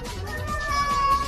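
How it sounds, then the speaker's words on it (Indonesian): A cat meows once in a drawn-out, wavering cry, fairly close and loud against a faint background murmur. "kucing pencilaan ae lho"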